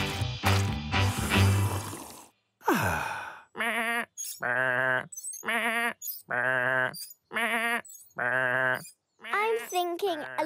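A cartoon sheep bleats in a series of loud, wavering cries, one after another with short pauses, after a brief burst of other cartoon sound effects.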